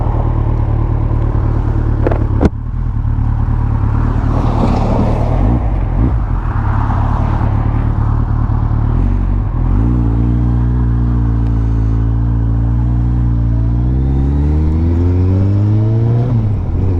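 Kawasaki ZZR 1400 (ZX14) motorcycle being ridden, its engine droning loudly and steadily under wind buffeting, with several gear changes and revs rising in pitch toward the end.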